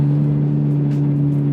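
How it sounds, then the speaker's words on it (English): A Nissan Skyline GT-R R32 with a DD exhaust idles or cruises in a steady, loud drone with strong low tones, close and continuous, with no talk over it. "I love the sound of it too. Yeah, the DD exhaust"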